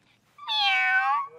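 A man imitates a cat with one clear, drawn-out meow lasting about a second, close and loud against near silence.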